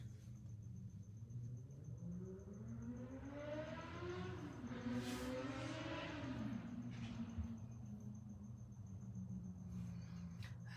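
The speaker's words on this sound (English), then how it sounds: "Someone racing out on Devonshire again." A distant car races along Devonshire street outside, its faint engine climbing in pitch as it revs through the gears and then fading, over a low, steady indoor hum.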